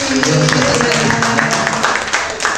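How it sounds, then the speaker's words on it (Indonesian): An audience of teachers at a talk show claps for a participant, a lively burst of applause over background music and a voice, steady before easing slightly at the close. "Tepuk tangan untuk Ibu Tuti"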